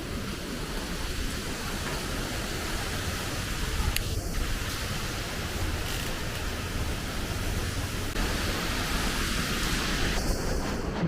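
Strong wind roaring steadily outdoors in stormy weather, a broad continuous rushing noise with gusts swelling and easing, and faint higher tones cutting in briefly.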